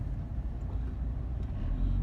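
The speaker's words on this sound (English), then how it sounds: "It had like a rough idle at first, but now it's definitely running with a better idle" A Chrysler Sebring engine idles steadily after a rough start, a continuous low rumble close by with no talking.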